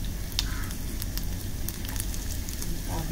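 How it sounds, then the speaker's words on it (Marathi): Mustard and cumin seeds crackle and splutter in hot oil for bhaji, a dense steady sizzle with scattered sharp pops throughout, close and fairly loud with no talking. "राई जिरे छान तडतडले"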